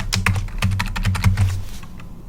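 Keystrokes on a computer keyboard as a password is entered, a quick run of separate clicks close by that thins out and stops near the end, with no talking.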